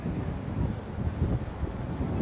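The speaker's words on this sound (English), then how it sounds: "It's very windy today" Strong outdoor wind buffets the microphone on a city street, a dense low rumbling roar with fluttering gusts throughout.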